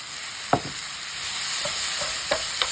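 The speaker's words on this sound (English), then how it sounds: "Then you mix it well." Tomato being mixed into a sizzling pizza topping mixture in a pan, a steady frying hiss running underneath a few distinct scrapes and taps of the stirring utensil.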